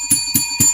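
A bell rung three times in quick succession, each strike bright and ringing, loud and close.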